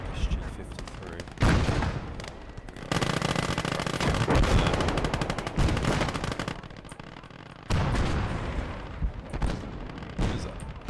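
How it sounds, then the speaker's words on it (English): Sustained machine gun fire in the World War II strategy game Call To Arms: Gates Of Hell, loud dense bursts running almost continuously with brief gaps, mixed with other battlefield gunfire and a voice talking over it. "Right, machine gun."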